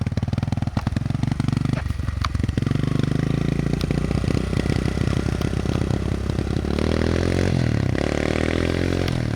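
A Kawasaki KLX 110L dirt bike rides past on a hillside, its small engine buzzing loud and close, revving and rising in pitch, then shifting and fading slightly as it climbs away.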